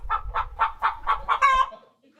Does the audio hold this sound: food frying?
no